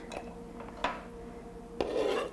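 Chopped vegetables are scraped off a cutting board with a knife into a pan of heated olive oil. Two distinct knocks and scraping rubs are followed by a soft sizzle as they land in the oil.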